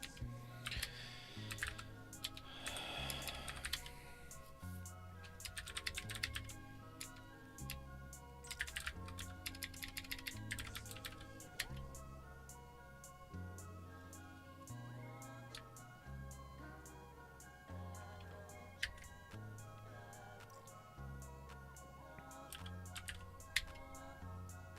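Computer keyboard typing during a coding session, a steady patter of fast clicky keystrokes set against a background of music.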